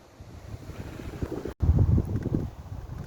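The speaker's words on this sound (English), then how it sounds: "Quite breezy" Blustery wind over an allotment vegetable plot in November, buffeting the microphone with low rumbling gusts that swell sharply after a brief dropout and stay strong, with no voices.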